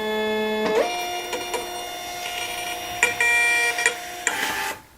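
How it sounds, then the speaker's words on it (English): A Dymo LabelWriter 4XL thermal printer prints a label with a steady close mechanical whir, broken by several short clicks and clacks, then stops abruptly at the end. "I'll show you guys a quick clip of me printing out a label just so you guys can see how fast this thing actually works"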